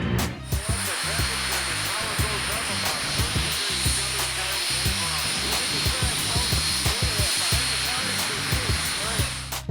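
A drag-racing jet engine roars with its afterburner lit, a loud continuous broadband blast rising to a high hiss that holds steady throughout, with rumbling low-end pulses beneath and no break in the noise.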